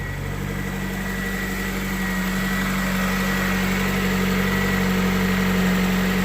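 An Acura Integra (1990–93) engine idles steadily at close range, a loud, constant low-frequency rumble with faint vibration and no clear start-up crank.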